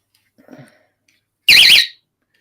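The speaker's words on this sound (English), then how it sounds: "I got a bait alarm too." A fishing bait alarm gives one loud, shrill warbling electronic beep lasting about half a second, preceded by faint indistinct sounds nearby, with silence around it.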